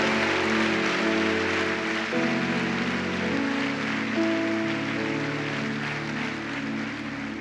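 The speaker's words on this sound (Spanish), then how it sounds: "Eso merece un aplauso de su parte, una ovación al Dios de la gloria" A church congregation applauds during a Sunday Holy Communion service, with a steady wash of clapping under sustained keyboard or organ chords from the worship band that continue through the whole stretch.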